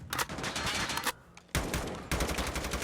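Bursts of rapid automatic gunfire from COD Mobile, loud and close, broken by a brief lull before the shooting resumes.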